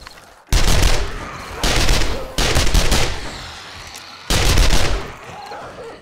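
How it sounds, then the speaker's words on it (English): An SMG fires in the survival video game 7 Days to Die as loud sustained bursts of rapid automatic gunfire, four long volleys separated by brief pauses. "I'm going to try out my SMG."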